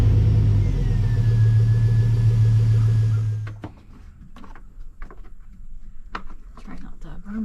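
A Chevrolet Tahoe with a newly fitted water pump, its engine running with a steady idle rumble and a faint whine, then shutting off after about three seconds, leaving scattered clicks and knocks and some quiet talk nearby.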